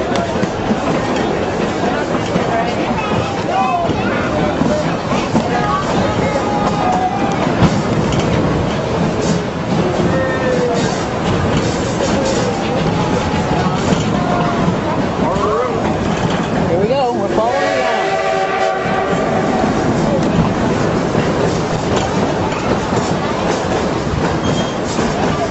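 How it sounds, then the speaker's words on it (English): The Durango and Silverton narrow-gauge train rolls past, a continuous rumbling of wheels with clicking rail joints and occasional squeals, loud and near, while onlookers talk nearby. "There's the train!"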